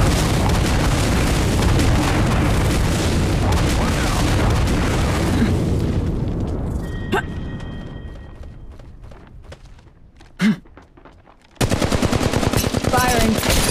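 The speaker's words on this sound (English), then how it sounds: "Call in the airstrike" Heavy, dense barrage of explosions and gunfire from an airstrike in the mobile shooter Apex Legends, loud and continuous, fading into a quieter stretch with a single sharp blast before the roar returns.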